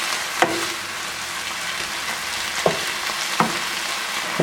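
Ground beef browning in a pan as its liquid cooks off: a continuous close, even sizzle broken by a few sharp scraping taps of a utensil, with no voices.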